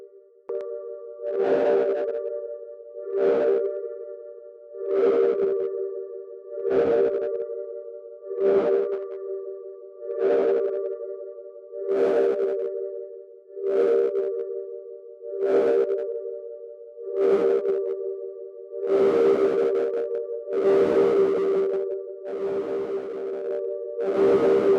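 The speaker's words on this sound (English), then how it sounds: "Now I will use the distortion here." Synth body sound run through a distortion effect in Bitwig, a series of about a dozen evenly spaced tonal swells with a gritty, buzzing harmonic edge, each note rising and fading, loud and alone.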